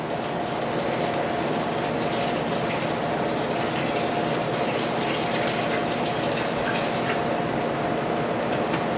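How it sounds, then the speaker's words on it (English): Water is poured steadily into a batch of dry kiln mix ingredients, making a continuous close gushing, splashing wash that holds even for the whole stretch, with no talking. "I'm going to immediately have to add some water."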